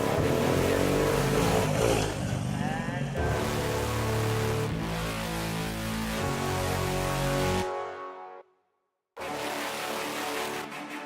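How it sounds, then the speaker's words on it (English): Keyless Honda NSF racing motorbike being push-started at a race meeting, its engine catching and revving loudly with raspy bursts, then briefly cutting to silence before the roar returns. "The NSF is a keyless bike, so you have to push start it to get it going."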